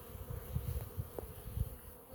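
Honey bees on orientation flights buzz close by in a low, continuous drone with small swells as individual bees pass near, on their own with no voices.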